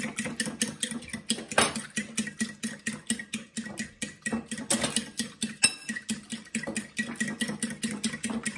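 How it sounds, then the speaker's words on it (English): Fork whisking an egg and lemon mixture in a bowl for a lamb fricassee, a steady run of quick light clinks and scrapes with no talk. "Get rid of any lemon seeds and whisk it with a fork."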